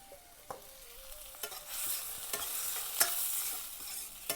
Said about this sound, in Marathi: हे सगळं चांगलं परतून घ्यायचं